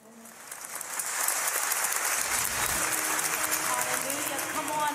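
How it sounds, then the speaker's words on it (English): Congregation clapping hands in praise during a church broadcast, swelling from quiet to full steady applause within the first second, with a voice speaking over it. "Right where you are, just give God a hand clap of praise"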